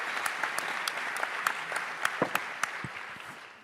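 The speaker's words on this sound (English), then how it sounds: "So, applause." Applause from an audience at a Berlinale Talents panel, a moderate crowd clapping with distinct individual claps standing out, gradually thinning toward the end.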